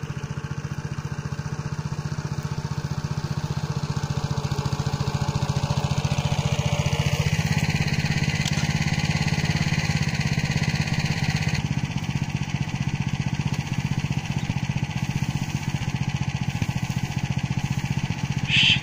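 A tractor engine runs steadily while harrowing a field, a continuous low mechanical drone with rough rumbling throughout, mid-distance and unbroken, with no talk over it.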